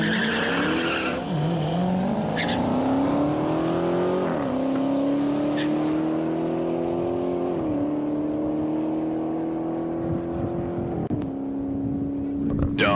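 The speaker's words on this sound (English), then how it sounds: "Dodge getting out the gates a little bit slower than the Mustang, but ends up taking it in the corner" Drag race launch of a Dodge and a 1987 Fox Body Mustang: loud engines rev and climb in pitch through repeated gear changes, with tires squealing and a steady roar lasting throughout, close and intense.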